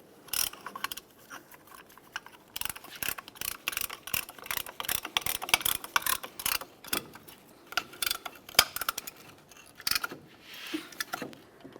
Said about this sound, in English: To push both of these in at the same time, I'll be using this caliper compression tool.